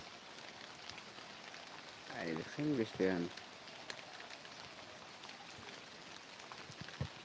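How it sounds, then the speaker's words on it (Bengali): Steady rain patters outdoors by a river in a soft, continuous hiss, with a brief stretch of speech partway through. "আমি যেখানে দাঁড়িয়ে আছি সেখানে এখন কিন্তু বৃষ্টি বেশি পড়ছে"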